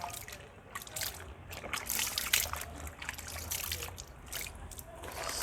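Water trickles and splashes steadily during hand-washing of clothes, a close, continuous wet rustle with small drips and sloshes throughout.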